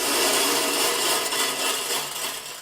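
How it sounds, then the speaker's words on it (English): Wood pellets pour steadily into the hopper of a Z Grills pellet grill, a continuous close rattling hiss of small hard pieces sliding and tumbling for a few seconds without pause. "We can now add some pellets into the hopper and feed those through into the fire pot"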